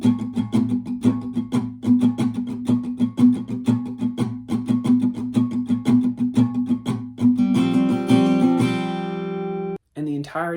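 An acoustic guitar strums the chords of line 2 of a song, a steady rhythmic pattern close and clear, ending on a sustained ringing chord, a brief gap, then a short tail of sound.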